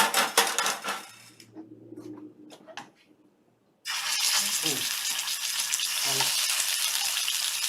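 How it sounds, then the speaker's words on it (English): Pork tenderloin browns in a hot pan, first with clinks and scrapes of pan and utensils, then a brief lull, then a loud, steady sizzle that runs on with a few low knocks. "So you just browning the meat on both sides for a little bit."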